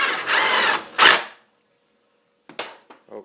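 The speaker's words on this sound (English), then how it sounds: "I took them out with a Torx 27. That's what we're going to use to reinstall the bolt." Power driver fitted with a Torx 27 bit running bolts back into a bracket on a GM 4L80-E transmission under rebuild: two close whirring bursts, a pause, then short clicks and taps of handling.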